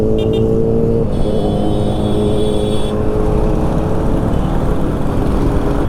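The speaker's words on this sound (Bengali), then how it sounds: "আবার সেই 4 সিলিন্ডার ইঞ্জিনের গাড়ি, ও কি আওয়াজ।" A four-cylinder motorcycle engine revs loudly and close during a highway group ride, its high, smooth whine rising and holding in pitch over steady road and wind roar, with no talking.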